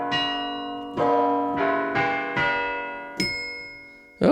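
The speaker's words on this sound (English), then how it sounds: "Bells." Tubular bells preset on a Studiologic Numa X Piano GT keyboard, ringing several resonant, metallic struck tones one at a time, each sustaining with long shimmering decay and a final higher strike at the end.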